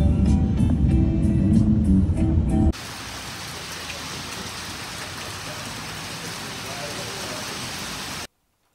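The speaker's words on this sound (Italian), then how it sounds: "intanto continua a piovere, anzi adesso proprio diluvia" Heavy rain pours down steadily in Dubai, a dense broadband hiss that continues for several seconds after a louder, busier stretch of mixed noise at the start.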